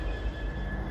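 A Class 175 diesel unit pulls out of Crewe station, heard as a brief, steady low rumble with a faint high whine above it.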